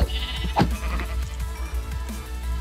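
A bighorn sheep in a video game gives a single bleat over a low steady background hum, with faint game sounds around it.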